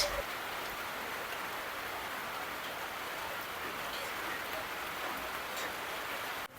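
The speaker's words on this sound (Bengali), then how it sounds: "আশা করছি বোঝা যাচ্ছে যে বৃষ্টি পড়ছে আর বৃষ্টির আওয়াজটাও শুনতে পাচ্ছেন নিশ্চয়ই" Rain falling outside an open window, a steady even hiss of drops at moderate distance that holds constant until it cuts off at the very end.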